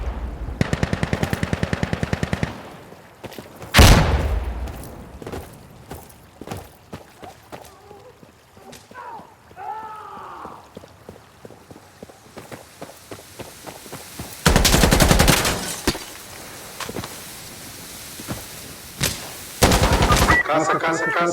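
Bursts of automatic rifle fire and single shots crack out in the shooter game Insurgency Sandstorm, some loud and close, others more distant, with players' voices heard between the volleys.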